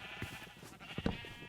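Sheep bleating in a Minecraft-style game world, several short bleats popping up at moderate volume over steady background game music.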